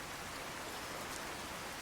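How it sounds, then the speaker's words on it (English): Rain falling in a modded video game level, a steady, even hiss of dense rainfall with no distinct drops or breaks, fairly quiet and uniform throughout. "Oh, this is awesome in the rain."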